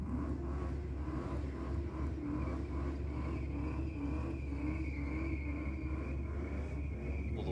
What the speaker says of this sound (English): the Volvo has no problem in frying those back tyres